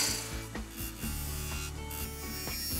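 Spindle gouge cutting a spinning wood workpiece on a lathe, a steady scraping rasp with rhythmic ticks as the tool rolls into a V-cut, moderately quiet and close with no talking.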